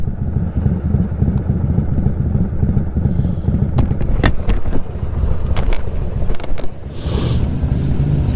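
A 1999 Harley-Davidson FLSTF with a full S&S engine rumbles along the road, a heavy low engine drone mixed with wind buffeting, steady and close throughout without speech.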